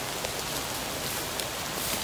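Steady rain pours down during a fishing outing, a dense even hiss of drops with occasional louder patters, continuous and close with no talking.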